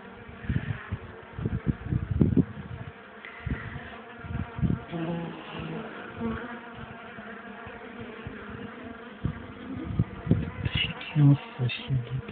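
Wasps buzz around a beehive during a hive inspection, a close, wavering drone that swells and fades as insects fly past, with bumps and knocks of handling throughout and no clear talking.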